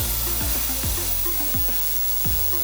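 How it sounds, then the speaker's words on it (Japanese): A small electric blower runs steadily close by, a continuous airy whoosh with a low hum and faint repeating tonal sweeps, no talking. "まずは小型ブロワ"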